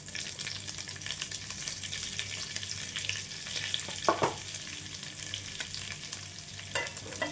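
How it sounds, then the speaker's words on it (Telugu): Curry leaves and chana dal splutter in hot oil, giving a soft continuous frying hiss with a few sharper pops and crackles, close but fairly quiet. "ఇది కొద్దిగా చిట్పట్లాడేంత వరకు వేగించాలి"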